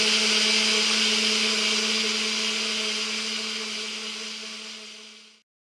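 A mixer whirs steadily and loudly as it blends homemade boilie bait ingredients into a liquid mix, then cuts off abruptly near the end.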